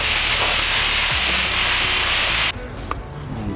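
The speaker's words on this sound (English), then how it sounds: "Now we're simply gonna rinse." A car wheel and tire are rinsed with a steady, loud hissing water spray that stops abruptly partway through, leaving quieter dripping and handling sounds.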